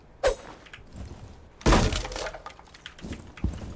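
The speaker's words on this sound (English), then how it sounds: "break a hole in this barricade around the bottom right of the X without breaking the glass" In Rainbow Six Siege, a wooden barricade is smashed with loud, sharp cracking blows. A hard first hit is followed by a bigger splintering crash and a few smaller knocks, with no talking.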